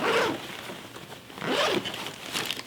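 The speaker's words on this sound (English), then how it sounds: "it does zip open and fold all the way out" A bag zipper is pulled open in two or three quick, close rasping runs, loud and alone with no talk.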